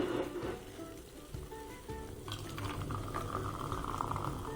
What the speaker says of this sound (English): we're going to open our Fanta.